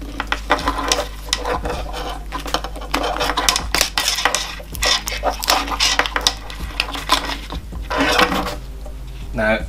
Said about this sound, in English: taking a razor blade, just cutting the insulation off of the end to free the plastic completely off